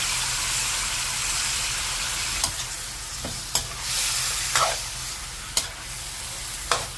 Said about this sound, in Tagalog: Haluin mo lang yung ingredients.